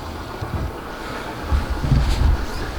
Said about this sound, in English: Rather windy.